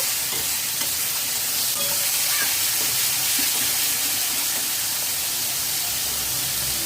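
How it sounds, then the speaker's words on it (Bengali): Onions fry in a pan over a low-to-medium flame, giving a loud, dense, continuous hiss and crackle with no break or voices. "লো টু মিডিয়াম ফ্লেমে পেঁয়াজ ভালোভাবে কষিয়ে নেব"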